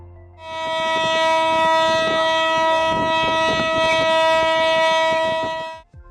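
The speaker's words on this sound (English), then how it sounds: "In case of a kick and/or a blowout, you will hear this alarm." Kick or blowout alarm on a drilling rig, a loud continuous horn-like tone with rich steady harmonics that sounds for about five seconds without a break, then cuts off; no voices.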